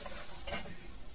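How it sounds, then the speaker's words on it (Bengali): Masala paste of ginger, poppy seed, cumin and chilli for a potol paneer gravy fries in a pan with a steady, close sizzle and stirring throughout, no voices. "এবার মশলাটা আমি একটু ভাজা করে নিই"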